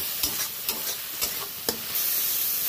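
Chili powder and turmeric sizzle in hot oil as they are sautéed for a fish curry, a steady frying hiss broken by several short scraping stirs of a spoon, close and moderately loud with no voices.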